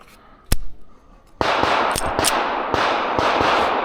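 Several sharp pistol shots from a PSA Micro Dagger C-1 fitted with a compensator, fired outdoors at about 20 yards: one isolated report, then a quicker irregular string of loud cracks over a ringing, noisy background.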